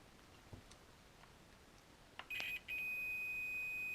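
A multimeter on continuity test emits a steady high-pitched electronic tone as its probes touch joined wires, sounding briefly, cutting out, then holding continuously after faint handling clicks.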